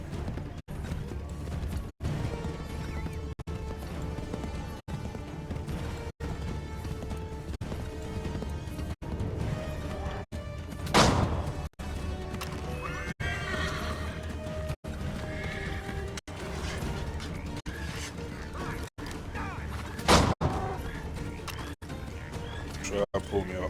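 A horse in the video game Assassin's Creed 3 whinnies loudly a couple of times over steady clip-clopping hooves, with game sounds and faint voices mixed in.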